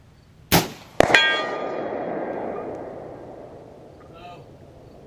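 A 12 gauge Foster rifled slug strikes a distant steel gong, a sharp shot followed by a bright metallic clang that rings and slowly decays over several seconds outdoors.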